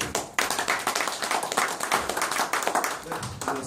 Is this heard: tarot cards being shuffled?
no